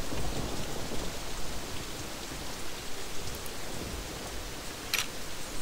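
Steady rain in a video game pours down in a dense, even hiss with scattered droplet patters, loud and continuous throughout.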